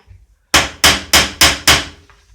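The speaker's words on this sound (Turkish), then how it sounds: "Üstten yine vuracağım" Five sharp hammer blows strike metal, flattening a tip being made for a burning tool, evenly spaced and loud, close by, each ringing briefly before the next.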